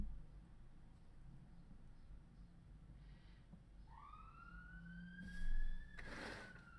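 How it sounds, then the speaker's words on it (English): An ambulance siren passes outside, a rising wail sweeping upward and holding at a distance before fading, faint behind low background hum with no talking. "I thought of ambulances going past."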